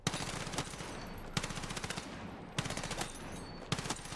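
M4A1 rifle in Battlefield 6 fires in four sustained full-auto bursts, each a fast even rattle of shots separated by brief pauses, crisp and close but moderately quiet.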